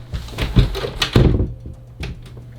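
A door is shut and locked, giving a few close, solid thuds and a latch clack spaced over about two seconds, with no talking.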